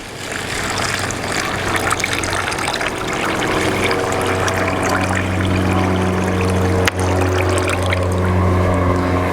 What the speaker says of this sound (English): So we'll go ahead and pour this into the bag.